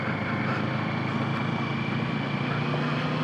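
A Kawasaki Z650 motorcycle sits stopped with its engine idling, a quiet, steady low hum under a broad wash of wind and ambient road noise, continuous and even with no talking.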